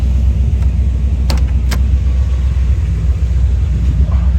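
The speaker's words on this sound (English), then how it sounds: "give you a couple of gentle revs, because you'll be able to hear it better without a microphone on." A big-block V8 engine in a 1978 Chevrolet Corvette C3 Pace Car rumbles deeply and steadily up close under gentle revs, its low throb holding fairly even throughout.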